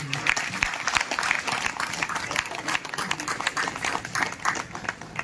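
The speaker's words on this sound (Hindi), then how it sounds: "एक बार जोरदार तालियां बजनी" Audience applause at a Hindi comedy poetry gathering (hasya kavi sammelan) in Duliajan, a dense, steady crowd clapping that carries loudly through the whole stretch without pause.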